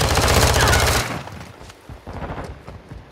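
Rapid automatic gunfire in Call of Duty: Modern Warfare II rattles loud and dense for about a second, then gives way to scattered, quieter shots and battle noise.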